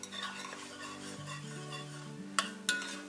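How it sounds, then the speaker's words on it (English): Carrots, celery and onion saute in a soup pot with a soft, steady sizzle, while a spoon scrapes and stirs and two sharp clinks of utensil on metal ring out near the end. "we're just going to saute this for maybe 10 minutes"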